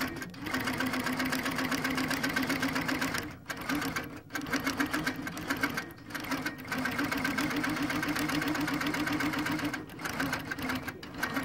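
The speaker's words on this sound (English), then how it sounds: "So it's automatically stitching around where I traced." A ProStitcher computerized sewing machine runs automatically along a traced area with a loud, steady mechanical hum and rapid needle rhythm, pausing briefly a few times before carrying on.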